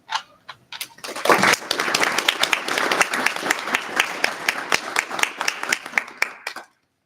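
An audience at a Spring 2024 student government election debate claps for a candidate, scattered claps swelling quickly into dense, loud applause that holds for several seconds before stopping abruptly.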